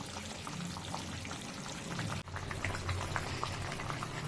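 Pabda fish curry bubbling on the stove, a continuous soft burble of simmering liquid with a brief dip partway through, quiet and steady with no voices.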